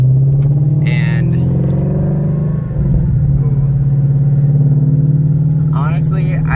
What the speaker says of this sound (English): get some engine noise and get some feel of it